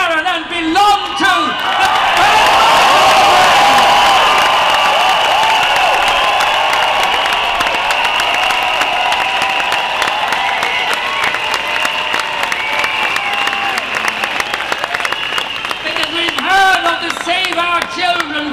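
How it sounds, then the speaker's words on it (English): A large crowd at Dublin Pride 2011 roars, cheers and applauds: loud, sustained clapping under shouts and whoops that swell and hold for many seconds, filling the open-air space. "I want you to give the biggest shout, the biggest roar, the biggest applause to Michael Barron"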